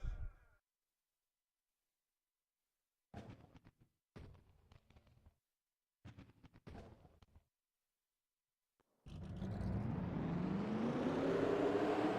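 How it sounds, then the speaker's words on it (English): Race car engines fire up at the Dickies 500 at Texas in a sim racing league, a faint sudden rumbling surge that builds and holds after short bursts of voice and quiet gaps. "Drivers, start your engines!"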